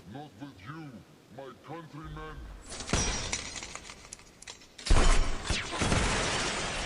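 A gunshot strikes bulletproof glass in a Hitman action film: after a voice speaks briefly, a sharp crack bursts into a glassy, crackling impact, followed by a second, louder hit and shattering clatter.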